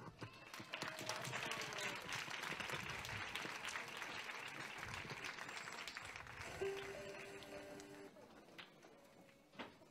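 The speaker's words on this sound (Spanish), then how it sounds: "un fuerte aplauso para nuestros sabrosos pastelitos" Audience at a school end-of-year festival applauding a performance, continuous crowd clapping at moderate distance that holds steady for most of the clip, with a brief tonal sound near the end.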